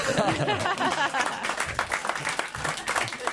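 A studio audience on a French television comedy show claps continuously in a dense, steady wash of applause, with some chuckling and voices mixed in throughout.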